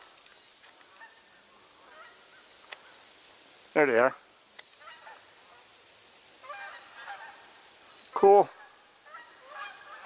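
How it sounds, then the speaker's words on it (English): Distant geese honk in two brief bursts over a quiet outdoor background in central Wisconsin, with someone speaking softly in between. "Got geese someplace, I can hear them."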